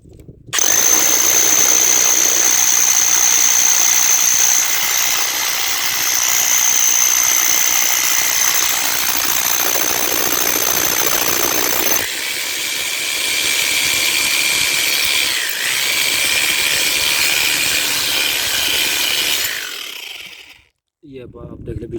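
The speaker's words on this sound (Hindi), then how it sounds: "पहले हम ड्रिल से करने लगे हैं" Power drill boring a hole during a plumbing job to run a water line for watering a tree, a loud steady whining drone with a shrill high squeal that changes pitch midway, then stops near the end.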